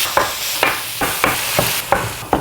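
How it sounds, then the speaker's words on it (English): Eggs sizzling in a pan while being stirred: steady frying hiss with regular scraping strokes of a utensil, about one every half second, close and alone. "And now we're gonna let this cook up. I'm gonna stir my eggs."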